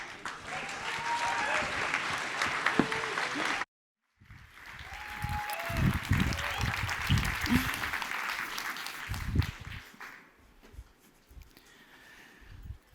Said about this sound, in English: please give a round of applause to her, please